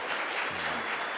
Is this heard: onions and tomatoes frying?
no